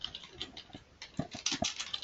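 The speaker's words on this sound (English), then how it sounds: "I'm just typing in a comment from an attendee" Someone types a comment on a computer keyboard, giving a quick irregular patter of close key clicks with brief pauses between bursts.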